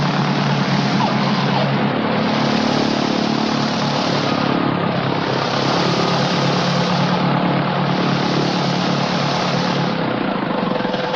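Britten-Norman Islander short-landing propeller plane flying overhead, a loud steady droning roar with slow rising and falling swells as it passes, no talking.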